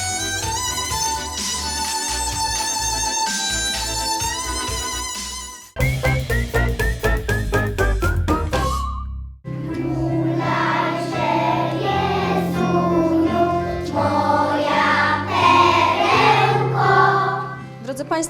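An electronic instrument plays synthetic, tonal melodies in several distinct sections, bright buzzy notes over sustained low tones, loud and continuous without speech.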